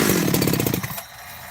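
A chainsaw engine runs with a rough, pulsing putter, clutch engaged and revving high, then drops off quickly into a quieter idle near the end.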